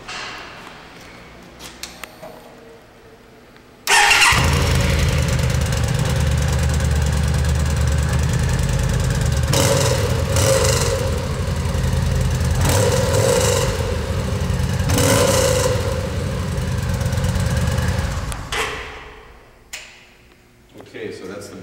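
A 2009 Yamaha V Star 950 motorcycle with its stock exhaust cranks and starts abruptly, then settles into a steady, loud, close V-twin idle with a few light blips before being shut off.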